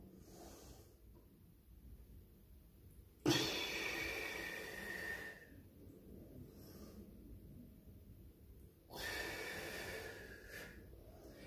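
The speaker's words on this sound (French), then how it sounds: "c'est la respiration avec le ventre." Slow, deep belly breathing during qi gong meditation, with two long, breathy, airy breaths close to the microphone and quiet stretches in between.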